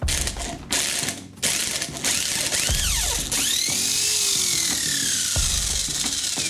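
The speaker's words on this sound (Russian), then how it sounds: "Это гайковерт с крутящим моментом 500 ньютонометров." A 500 Nm impact wrench backs a screw out of wood with rapid ratcheting hammering bursts, rising and falling motor whines, and short pauses between pulls, close and loud.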